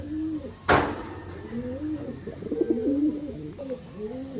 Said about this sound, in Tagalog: Kasi ito naman tropa, yung umuwi nating kalapati.